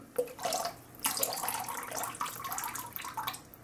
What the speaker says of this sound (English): You'll be able to know when I lift the brush out of the water because you can hear it.